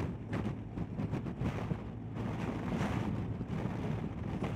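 Strong wind roars and buffets the microphone during a two-up tour on a BMW R1250 GSA motorcycle, a continuous rushing noise with gusty surges and no voices.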